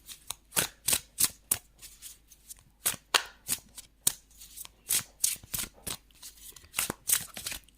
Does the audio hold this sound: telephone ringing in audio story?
no